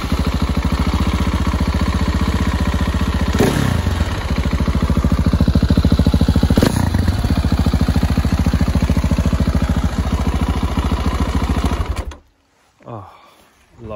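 A Husqvarna 701 LR motorcycle's single-cylinder engine runs with a loud, close, rapid pulsing thump and clatter and a couple of brief revs, then cuts out abruptly near the end.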